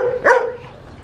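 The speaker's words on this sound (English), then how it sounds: "I'm fucking scared of this dog" A huge, active dog lets out a single loud bark close by, short and sharp, then quiet ambient noise follows.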